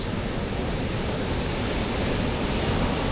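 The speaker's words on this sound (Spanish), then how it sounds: "pero mira las olas, qué grandes" Big ocean waves crashing at Ipanema beach in Rio de Janeiro, Brazil, heard as a loud, continuous broadband roar of surf with no voices.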